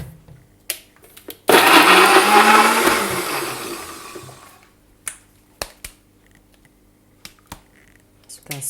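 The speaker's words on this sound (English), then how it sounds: "I will blend it now." A kitchen blender whirs loudly for about three seconds as it purees pepper with a little water for fonio porridge, then winds down. Sharp clicks and knocks follow as the motor stops.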